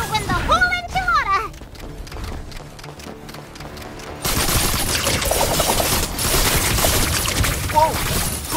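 Rapid gunfire in the mecha battle game Super Mecha Champions, a loud sustained burst of shots and crashes after a brief spoken line and quieter game sounds.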